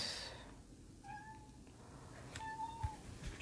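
A pet cat gives two soft, drawn-out meows about a second apart, near but quiet over faint room noise, with no talking.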